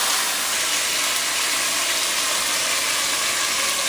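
Oxtail meat searing in hot oil in a home kitchen, a steady close hiss and sizzle running evenly throughout with no talk.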